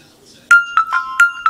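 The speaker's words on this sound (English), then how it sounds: "Making a notification sound." A Samsung Focus phone sounds its notification tone, a bright sequence of five short chiming beeps in quick, slightly uneven rhythm, close and clear against near silence.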